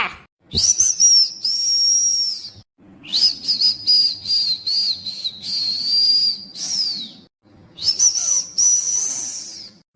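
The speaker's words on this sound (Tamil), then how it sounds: "அவன் என்னடானா தெனா வெட்டா விசில் அடிச்சிட்டு இருக்கான்" A cartoon character whistles arrogantly in three long, high, steady phrases separated by short pauses, loud and close with a faint hiss beneath and no talking.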